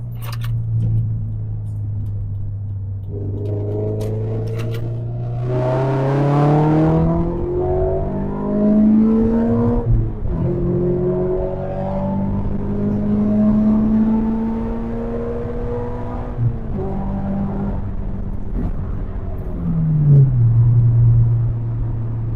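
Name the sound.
Toyota GT86 sports car engine while driving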